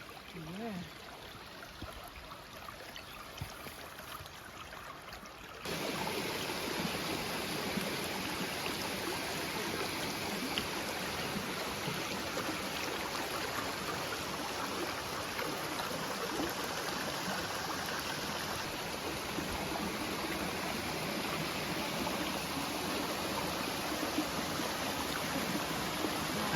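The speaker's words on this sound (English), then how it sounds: "Some water coming down." Steady rushing water of a stream flowing continuously, a soft hiss that grows fuller after the first few seconds and stays even throughout.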